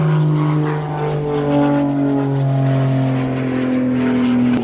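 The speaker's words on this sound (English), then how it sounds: "that was the invisible airplane" A propeller airplane drones past close and loud, its steady engine tone bending slightly in pitch as it goes by.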